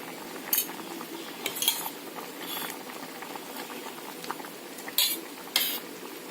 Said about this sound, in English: Now I am adding the brinjal, bhindi, that is lady's finger. And the dal also.